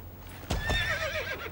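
Horse in the video game Star Stable Online gives a single loud, wavering whinny that rises and trails off, with a few hoof clops just before it.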